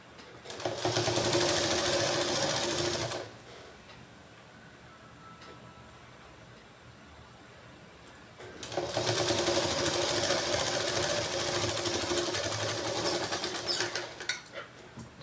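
A sewing machine stitches a straight seam in two bursts of close, steady whirring, one lasting about three seconds and a longer one of about six seconds, separated by a quiet pause.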